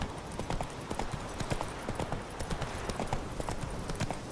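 Horse hooves clip-clop in a steady trotting rhythm as a rider travels on horseback in The Witcher 3, the hoofbeats close, regular and moderately loud with no talk over them.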